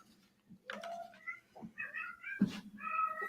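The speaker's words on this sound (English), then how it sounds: "that's my cat over there" A pet cat meows several times indoors, with a sharper, louder call near the middle, over a low steady room hum.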